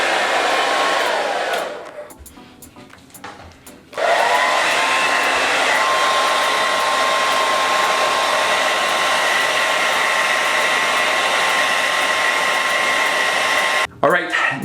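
A hair dryer blows steadily and loudly up close for the whole stretch, dipping in strength for a couple of seconds early on before roaring back, then cutting out briefly near the end.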